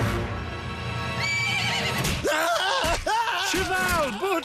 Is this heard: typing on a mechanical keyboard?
no